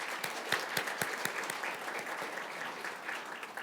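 Applause from an audience welcoming the next speaker at the closing and awards ceremony of a courtroom advocacy competition, steady clapping heard from a distance at low level, with a few sharper claps standing out near the start.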